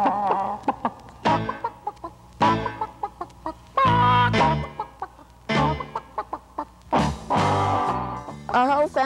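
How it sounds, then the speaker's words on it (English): Several chickens cluck in bursts close by, with short pauses between calls and an occasional louder squawk. "Our whole family loves chickens"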